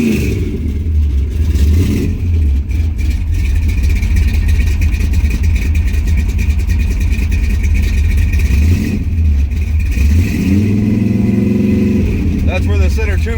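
A 1973 Plymouth Satellite with a 451 big-block stroker engine and big cam, loud and close, with a heavy lumpy idle, a sharp throttle blip that revs up and falls back, then a second rise near the end.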